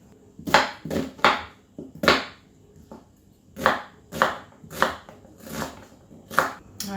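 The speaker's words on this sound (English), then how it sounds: "I'm just going to dice up some onions" A knife dices onions on a chopping board in a farm camping van kitchen, a series of about a dozen crisp, close knocks in uneven clusters, with no voices.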